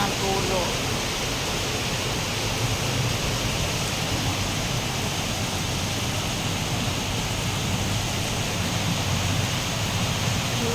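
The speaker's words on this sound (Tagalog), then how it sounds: "Sobrang dilim sa labas at malakas ang ulan." Heavy rain from Typhoon Pepito pours down and overflows a full gutter, a steady, unbroken rushing hiss that stays loud and even throughout.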